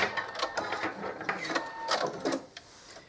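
A sewing machine runs short back-and-forth reverse stitches on a fabric coaster with wadding, giving a busy mechanical chatter of quick clicks and whirs, near and fairly loud, without speech.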